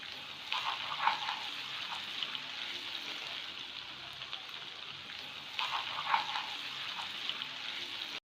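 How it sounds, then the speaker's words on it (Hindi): Chicken manchurian simmers in a pan over a medium flame, giving a steady soft sizzle and bubbling with two brief louder bursts of spattering, heard alone with no talk. "अब इस तरह हम इसे मीडियम फ्लेम पे 5 से 7 मिनट के लिए पकने के लिए छोड़ देंगे।"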